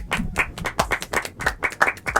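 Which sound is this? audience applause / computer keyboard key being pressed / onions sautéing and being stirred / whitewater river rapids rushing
audience applause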